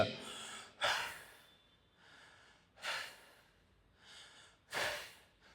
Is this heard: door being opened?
no